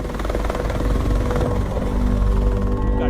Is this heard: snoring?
no